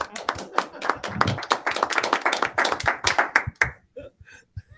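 Several people clap during a committee meeting, an uneven run of handclaps lasting a few seconds before stopping, with voices talking underneath.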